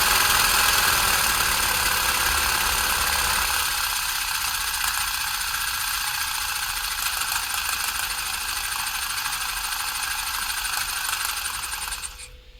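A Lionel American Flyer 0-6-0 S-scale model steam locomotive runs flat out, a dense mechanical whir with fine rattling and ticking that holds steady and close before dropping away abruptly at the end.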